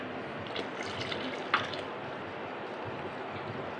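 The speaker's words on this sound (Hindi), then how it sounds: "और इसमें हम ऐड करेंगे 1 केजी के करीब पानी" Water is poured into a jug holding yogurt and gram flour, giving a steady, moderately loud broadband rush that carries on without a break and has one small splash partway through.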